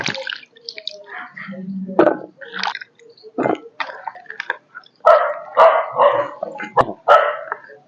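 A dog barks repeatedly nearby in short, sharp bursts, the barks coming faster and louder toward the end with quiet gaps between.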